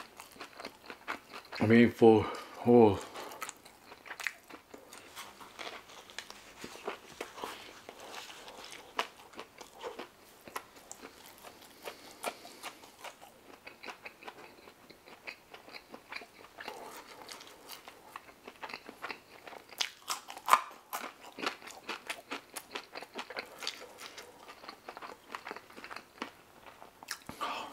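Someone bites crunchy falafel with a few loud crisp crunches early on, then chews quietly and intermittently close to the mic, with brief talk and faint clatter.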